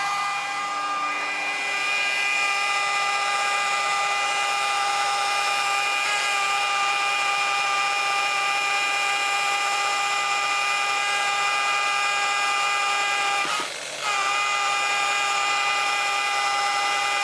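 A Gtechniq P1 polisher runs at a low 900 RPM on the second speed setting, giving a steady, close whine with a faint dip near the end and no talk over it.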